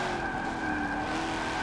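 Tires skid through a brief slide of an understeering car in the Forza 7 racing game, a steady close engine drone with a high sustained squeal running through the whole moment.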